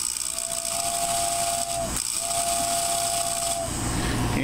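Two long steady whistle blasts from the tender of a Lionel 255E toy steam locomotive, each lasting about a second and a half, sounding over a constant background hiss of the running model.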